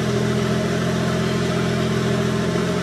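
A Mercedes 300TE engine with a Megasquirt install idles steadily and continuously at close range, a dense even hum with no change in pitch or rhythm.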